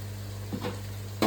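Onions fry with rock salt in a pan for a Telugu natu kodi chicken curry, giving a soft steady sizzle under a low kitchen hum, with a brief stir near the end.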